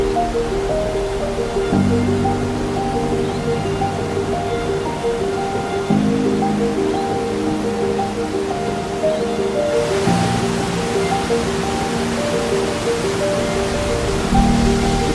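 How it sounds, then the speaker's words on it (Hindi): Loud, steady roar of a forceful waterfall near Lachung in Sikkim, heard up close after a short hike from the road, with constant rushing water noise throughout. "इतनी फोर्स से पानी गिर रहा है,"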